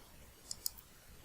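Two quick, faint computer mouse clicks sound about a beat apart against a quiet room background.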